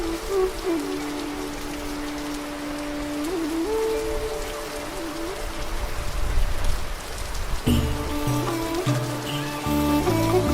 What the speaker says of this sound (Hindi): बारिश मज़ीद तेज़ हो गई है।